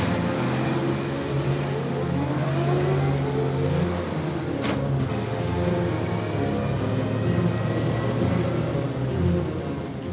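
A truck engine drones at a steady, even pitch throughout, a continuous mid-distance motor hum carrying the vehicle along, with a brief faint hiss near the middle and no distinct speech over it.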